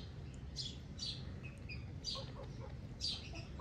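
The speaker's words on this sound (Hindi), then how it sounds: "अब उसके वो जो चूज़े हैं वो वहाँ फिर रहे हैं" Several high, brief chirps from a hen's young chicks, coming in small clusters at intervals over low background hum, fairly faint and without talk.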